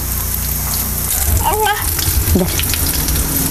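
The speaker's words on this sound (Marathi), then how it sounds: "आपण हे राहिलेलं सुद्धा आहे ना त्याच पद्धतीने आपण सोडूया तेलामध्ये आणि हे सुद्धा आपल्याला चांगलं असं तळून घ्यायचं" Snacks deep-frying in hot oil, a loud continuous bubbling hiss throughout, with a brief clatter midway.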